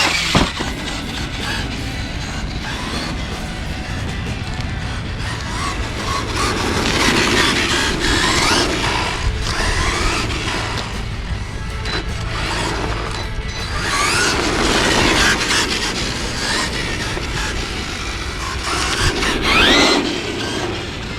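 A Losi LMT 4WD solid-axle monster truck fitted with Proline Powerstroke shocks and running on a 3S 5200 LiPo drives nearby, a steady rumbling, rattling roar with clattering bumps, surging in loudness with no voices.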